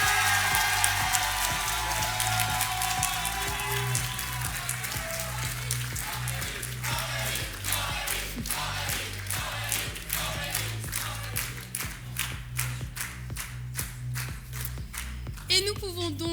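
At a Master's graduation ceremony for a finance department, an audience applauds as a top graduate is honoured. The clapping is steady and moderately distant, thinning toward the end, with a low hum and talk underneath.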